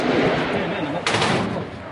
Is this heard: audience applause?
no